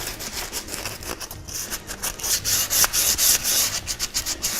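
Steady rhythmic rasping of sandpaper rubbed back and forth over wood by hand, close and fairly loud, with no talking.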